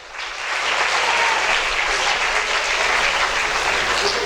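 Loud, dense audience applause at an academy ceremony honouring top-ranked students, rising quickly and holding steady without talk.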